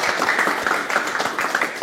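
An audience applauds to welcome a speaker at a talk about making money with ChatGPT: steady, dense clapping from a crowd held at an even level throughout, with no pauses.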